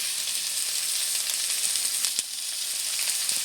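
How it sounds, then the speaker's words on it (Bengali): Potatoes fry in hot oil in a pan with a dense, steady, close sizzle, and soft occasional clicks of stirring rise above the hiss. "আলুটা দিয়েও বেশ সুন্দর করে নেড়ে চেড়ে নিয়েছি"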